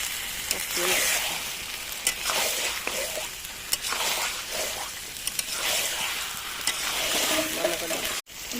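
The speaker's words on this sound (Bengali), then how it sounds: "ভালো করে লাল লাল হয়ে যাবে যখন পেঁয়াজগুলো ভেজে" Onions frying in a hot pan, a steady close sizzle running throughout with occasional stirring scrapes and a brief dropout near the end.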